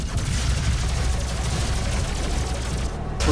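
Rapid gunfire in the video game Doom SnapMap, a remake of a Resistance: Fall of Man map, rattles loud and continuous as a dense fusillade of shots for about three seconds, cutting off briefly near the end.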